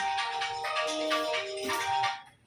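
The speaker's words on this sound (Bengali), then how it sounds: "কে ফোন করেছে?" An electronic phone ringtone from an incoming call plays as a steady, melodic tone pattern, close and fairly loud, fading out toward the end with no one speaking.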